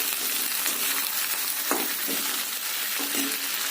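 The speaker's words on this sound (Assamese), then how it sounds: "পাৰৰ মাংসখিনি তেল ওলোৱালৈকে ভাজি ল'ম।" Pigeon meat frying in hot oil in a pan, a continuous close sizzle with occasional stirring scrapes and a few louder crackles, with no talking over it.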